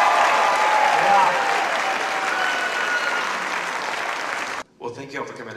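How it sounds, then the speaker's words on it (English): Loud, sustained applause from a large audience at a singing competition finale fills most of the clip, then cuts off abruptly, leaving a few scattered voices and sounds. "How about another round of applause for all 15 of our finalists?"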